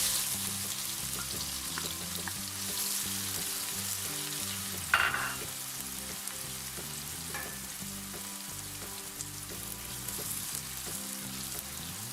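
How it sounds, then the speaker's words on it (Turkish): Onions sizzle steadily in a hot pan with red pepper for an Indian egg curry, with a brief clatter midway and soft music underneath. "Ve soğanların rengi değişene kadar kızartıyoruz."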